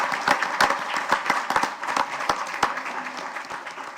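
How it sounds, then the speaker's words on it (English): An audience at a Clearwater, Florida city council meeting applauds award and scholarship recipients, with moderate, uneven clapping and distinct sharp individual claps that gradually thin out. "Please give them a round of applause."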